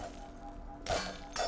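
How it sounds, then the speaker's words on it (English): Glass breaks twice in the game Half-Life, two sharp shattering crashes about half a second apart over a low background hum. "I love the sound of breaking glass"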